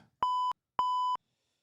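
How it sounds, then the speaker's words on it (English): Two identical, loud electronic censor beeps about half a second apart, each a steady high pure tone, used to bleep out speech during chat about an AFL football game. "Beep that out. I'll beep it. Give me a second. Where's the beep?"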